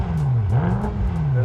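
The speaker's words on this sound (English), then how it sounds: "Let's see what the exhaust sounds like." BMW F10 M5 exhaust in comfort mode, revving hard toward the rev limiter, with a loud, continuous engine drone whose pitch rises, dips and climbs again across the burst.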